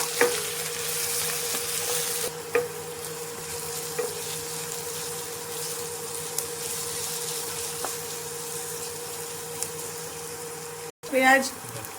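Chopped onion and green chillies fry in oil in a pan, giving a steady, even sizzle that runs throughout, with a few light stirring knocks and a brief clatter near the end.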